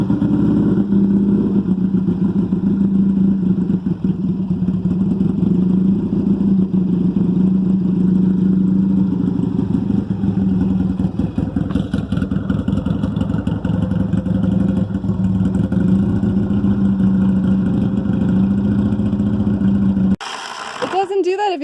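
A Yamaha XS 650 motorcycle engine runs continuously nearby with a bad misfire, a loud uneven low rumble with irregular stumbles, before cutting off abruptly near the end.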